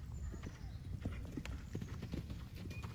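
Horse hooves clip-clopping during a show jumping round, faint, rapid, irregular hoofbeats over a rumbling, noisy background, with a voice talking in places.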